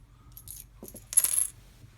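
Coins dropping in The Builders: Middle Ages video game, a short bright metallic clink and jingle of a few coins landing together, close and clear against near silence.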